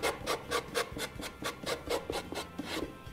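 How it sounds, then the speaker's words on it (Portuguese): A foot sanding file rasps back and forth across a handmade scrapbook decor craft piece, about a dozen even, rhythmic strokes close up and fairly quiet, with no talking. "Em seguida, eu vou pegar uma lixa. Eu uso esse tipo de lixa de pé"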